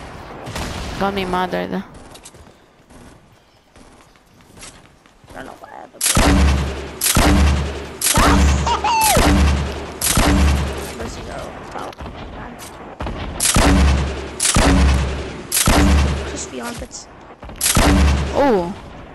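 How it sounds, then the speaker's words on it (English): Gunfire in Fortnite Battle Royale rings out in loud, repeated booming bursts spaced a second or so apart, with players talking excitedly over and between the shots. "They even shot me in midair."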